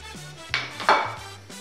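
A plate taken and handled in a home kitchen while onions, garlic and fish are prepared for soup, giving a few close clattering knocks and scrapes of crockery, with a louder clunk midway.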